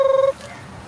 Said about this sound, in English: Text message coming.